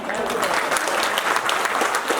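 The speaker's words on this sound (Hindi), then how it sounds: "तो सभी एक बार जोरदार तालियां बजा रहे" A crowd of people claps loudly and continuously at an International Women's Day event in Uttarakhand, a dense, sustained applause with a speaking voice underneath.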